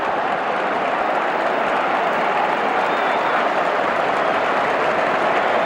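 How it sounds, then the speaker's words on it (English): Football crowd at Anfield, Liverpool against Spurs in 1993, gives sustained, steady applause filling the stadium, a dense wash of clapping with no break. "There's plenty of applause ringing around Anfield."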